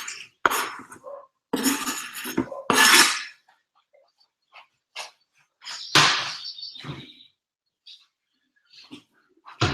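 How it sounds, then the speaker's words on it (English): Chopped onions are scraped from a board into a pan in a home kitchen, with several loud clattering scrapes and knocks in quick bursts, broken by short quiet gaps and a few lighter clinks. "I'm just gonna swipe this in the pan."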